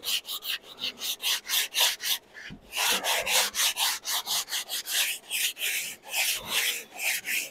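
Sanding a live edge wooden serving board to smooth a problem area, heard as steady rhythmic rasping strokes, close and fairly loud, repeating about twice per second with a brief pause midway.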